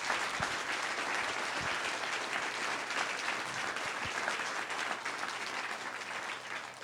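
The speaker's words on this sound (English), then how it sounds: "just to have a final round of applause for our candidates" An audience gives candidates a final round of applause at the close of a debate evening, steady dense clapping that runs throughout at a moderate distance.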